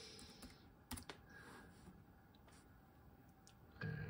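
Typing on the keyboard of an Eee PC 901 laptop: a few quiet, irregular key clicks and taps, close and faint, with a louder burst of keystrokes near the end.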